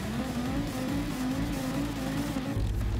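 A Porsche race car in Gran Turismo 7 holds a steady, droning engine note throughout, rising slightly as it accelerates near the end, with no talking over it.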